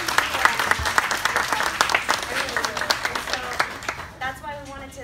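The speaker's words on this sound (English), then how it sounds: "So can we please give her a round of applause?" A crowd claps and cheers for a teacher at a Teacher Appreciation Day school event, a dense burst of applause that thins toward the end as a few voices and scattered claps remain.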